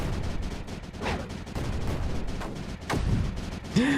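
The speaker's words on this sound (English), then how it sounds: "I still love seeing the mortars land and just clean out chunks of the world" Mortar shells landing in Creeper World 4, a run of dull booming impacts and rumbling blasts at irregular intervals, fairly loud, with a brief electronic tone near the end.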